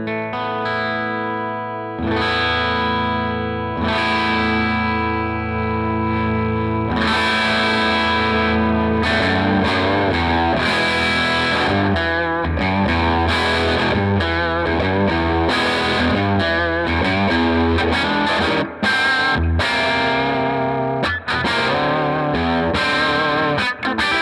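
A Les Paul electric guitar through a heavily distorted Cornell Romany 12 amp: sustained chords ring out first, then a busier run of fast, gritty notes, loud and without talk.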